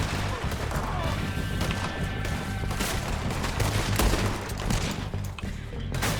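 Pistol gunfire in a Red Dead Redemption 2 firefight, with dense, continuous shots and impacts crackling over a busy combat soundscape, loud and close throughout.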